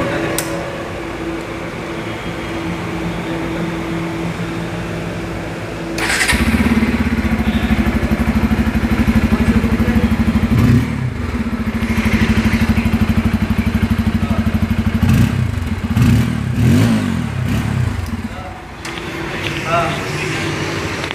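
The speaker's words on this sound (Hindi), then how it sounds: "डुअल बैरल एग्जॉस्ट से अच्छा खासा साउंड आता है" Bajaj Pulsar N250 2024 motorcycle with a dual barrel exhaust, starting up and then idling with a steady thrum, blipped a few times in short revs, close by and fairly loud.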